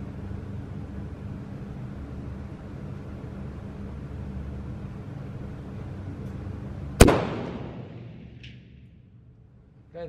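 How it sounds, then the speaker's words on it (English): A single loud sniper rifle shot cracks out at an outdoor shooting range after several seconds of low ambient noise, then its echo fades into near silence. "that's your first shot."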